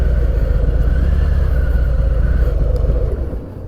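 A 2019 Harley-Davidson Heritage Classic 114 with its Milwaukee-Eight engine rumbles steadily at low speed while maneuvering, a loud, close, continuous deep engine throb that eases off slightly at the end.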